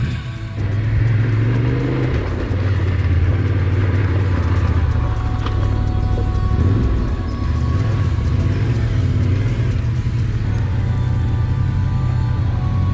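A heavy Honda CB motorcycle labors uphill on a mountain road trip, a loud continuous engine drone and rumble with shifting pitch as the revs rise and fall, plus wind roar, close up throughout.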